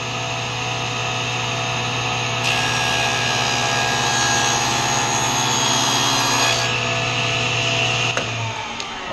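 Table-saw-style power saw blade cutting a dado in wood for a herringbone box, a loud steady whine and grinding roar running continuously for several seconds, then winding down near the end.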